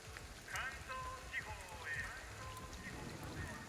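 Rain patters steadily on a wet city street in the video game Ghostwire: Tokyo, a soft continuous wash under faint game sounds and chirpy tones, with a voice talking over parts of it.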